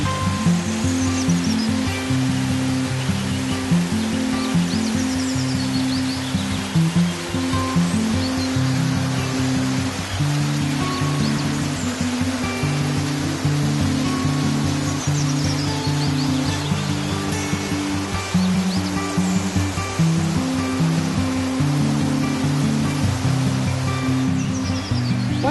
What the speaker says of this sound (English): the flow of the river stream gives a very relaxing mood